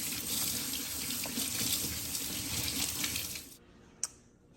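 Tap water runs steadily from a faucet while a watch band is washed with dish soap at a sink, a continuous close splashing rush that cuts off near the end, followed by a single small clink.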